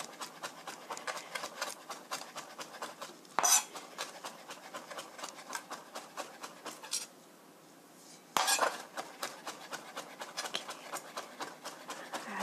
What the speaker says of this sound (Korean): 아주 잘게 다져주세요